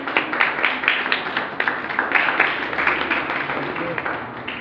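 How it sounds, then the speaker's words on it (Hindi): Applause at a college event: a crowd claps in a dense, steady patter of overlapping claps that carries on for several seconds, fairly loud and close, with a little background noise. "तालियां होनी चाहिए।"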